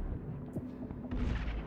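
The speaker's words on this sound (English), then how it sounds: "The meteor explosion." A meteor explosion in the video game Inside lands as a deep, muffled boom rumbling briefly under a dense low roar, with a second dull impact following shortly after.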